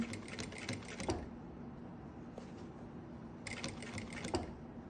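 A sewing machine stitches spaghetti cord along a channel in quiet, rapid bursts of needle chatter, with pauses between runs.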